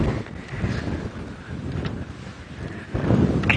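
Gusting wind buffets the microphone on an open safari vehicle in the bush, a steady rumbling roar that swells and eases, growing louder near the end.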